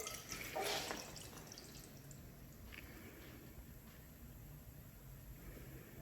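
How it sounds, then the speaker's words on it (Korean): Water is poured into a laboratory graduated cylinder held tilted at its middle, a brief faint trickle near the start that fades into quiet room hiss. "눈금 실린더에 물을 부을 때는 눈금 실린더의 가운데 부분을 잡고 기울여 가지고 물을 부어줍니다"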